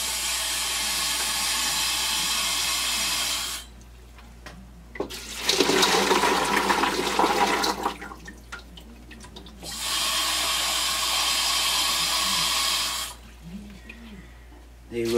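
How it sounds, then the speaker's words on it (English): Tumbled rocks and ceramic media rinsed under running water in three broad hissing bursts, with a louder, rattling splash in the middle as the stones are swished, separated by short quiet gaps. "Let's rinse them off and see what we got."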